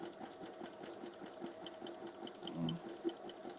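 A sewing machine runs a zigzag stitch on tulle, a quiet, even mechanical whir with faint rhythmic ticking of the needle and a couple of small clicks near the end.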